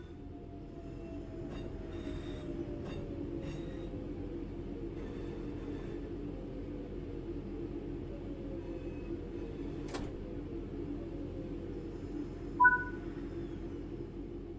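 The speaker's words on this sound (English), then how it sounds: "Bring the train to a stop by applying some brake." Passenger multiple-unit train in Train Sim World 5 braking to a stop: a steady low rumble of rolling wheels with faint squealing tones slowly falling, a brief click near the end, no talking.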